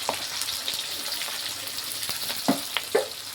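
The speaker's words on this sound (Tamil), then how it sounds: "இப்போ நல்லா ஃப்ரை பண்ணிக்கலாம்." Onions frying in hot oil in a pan with mustard seeds and green and dried chillies, a steady close sizzle throughout with a few brief knocks of a stirring spoon near the end.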